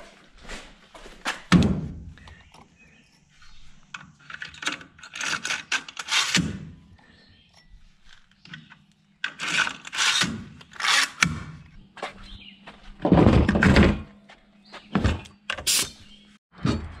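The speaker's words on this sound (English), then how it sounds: "Grab the framing gun." A framing nail gun drives nails into barn boards during barn construction, giving repeated sharp thunks and thuds at irregular intervals. Scraping and handling noises from nearby boards come between the shots.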